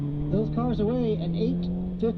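Drift cars launch off the line at a 2014 pro drifting bonus challenge, engines revving in a steady droning roar, while an event commentator keeps talking over the noise.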